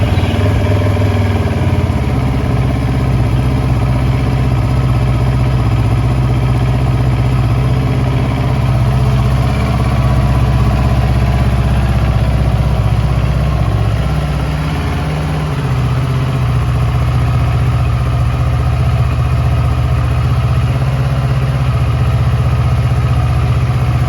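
A 2023 CFMOTO 700CL-X sport motorcycle idles steadily close by, a loud continuous low engine rumble with a slight dip in level partway through, with no talking.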